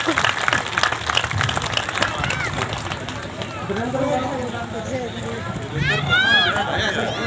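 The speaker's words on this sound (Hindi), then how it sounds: "उन दोनों के लिए जोरदार ताली से स्वागत करें" Loud applause from a crowd welcoming guests at a Jharkhand Foundation Day gathering, steady clapping running throughout with talk and voices mixed in, swelling again near the end.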